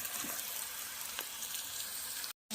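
Onions, turmeric and ginger-garlic paste fry in a pan for a simple egg curry, giving a steady, soft hiss and sizzle with faint crackles throughout.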